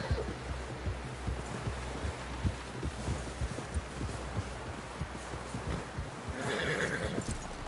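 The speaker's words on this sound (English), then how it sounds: "Someone help John down off this horse" A horse in a video game clops along with a steady, close run of hoofbeats, and a bright whinny rises near the end, all at moderate loudness with no talking.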